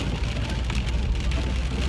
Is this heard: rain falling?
yes